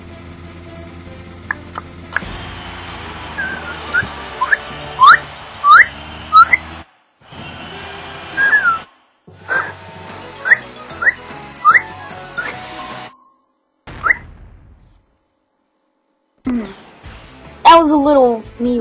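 A person whistling short bright phrases and rising chirps in bursts separated by pauses, close and fairly loud, with game music and a talking voice in the background.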